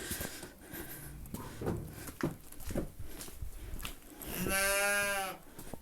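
A cow moos once in a barn, a long harmonic low, after several seconds of shuffling and background noise; a few faint thuds and rustles come before it.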